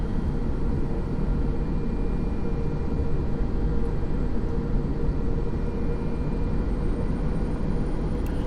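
A simulated A320 airliner taxiing toward runway 08 in X-Plane 11, heard as a steady, loud, low engine rumble and whine that holds evenly throughout with no voices.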